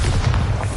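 Deep rumbling explosion from the Bombarda spell in Hogwarts Legacy, a loud sustained boom with crumbling debris-like texture, filling under a second with no voice.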